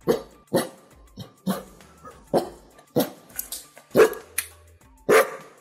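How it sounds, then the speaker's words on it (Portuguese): A dog barks repeatedly in short, loud bursts spaced about a second apart, with a low growl between some of the barks. "Dá um latido de opinião aí, Titi."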